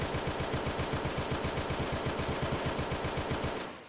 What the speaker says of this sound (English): Okay, we got the Russian AK.